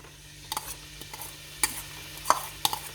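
Thai curry paste of lemongrass, galangal, kaffir lime leaf and garlic frying in a little oil, a soft sizzle under a few distinct scrapes and clinks of a spoon stirring the pan, quiet and close with no talking.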